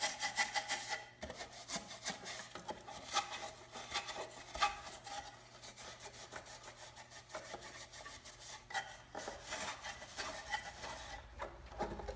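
A plastic headlight lens from a Chevrolet Silverado or GMC Sierra headlight is scuffed by hand, giving quiet, close, repeated rasping rubs in an uneven back-and-forth rhythm with no talking.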